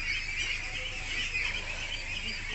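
A dense crowd of Pekin ducklings on a duck farm peep and chatter together in a continuous high, busy chorus, steady and fairly close throughout.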